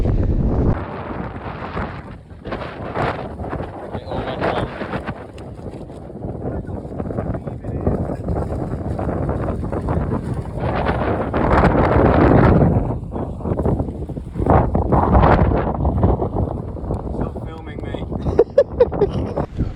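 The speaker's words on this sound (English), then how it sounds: "Wind's picked up." Strong wind buffeting a microphone while cycling on a road in Turkey, a loud, steady roar with gusting swells and rumbling, continuous throughout, with a voice speaking over it.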